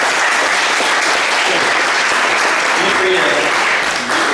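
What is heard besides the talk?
audience round of applause at a recital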